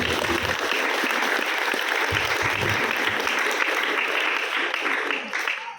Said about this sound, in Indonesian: Tepuk tangan untuk berkarya.